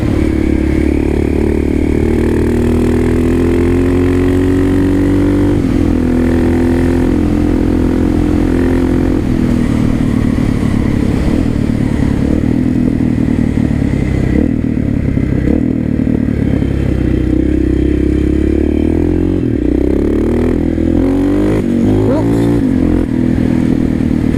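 A KTM 660 SMC motorcycle accelerating hard into a second gear wheelie, its loud single-cylinder engine roaring and climbing in pitch through gear changes, with wind buffeting and some talking underneath.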